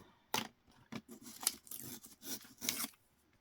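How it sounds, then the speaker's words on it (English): Paper being torn off along a ruler edge during card-making: a handful of short, dry ripping bursts, close and fairly quiet, separated by brief pauses. "So I'm going to rip off the top first"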